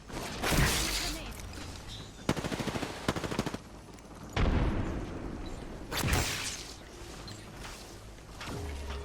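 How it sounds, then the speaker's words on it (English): Explosions and bursts of gunfire in the battle royale shooter Apex Legends, with several broad booms spaced across the clip and a rapid stuttering volley in the middle, all loud and close. "Grenade."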